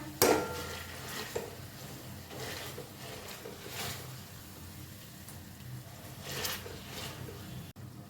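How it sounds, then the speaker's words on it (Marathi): Fried masala pav filling being lightly mashed in a pan over a low flame: soft, repeated scraping and squishing strokes over a low sizzle, close and steady, with no voices. "हे असं हलकंसं आपण मॅश करून घेऊया"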